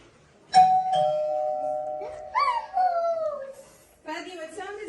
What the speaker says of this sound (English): It's a doorbell.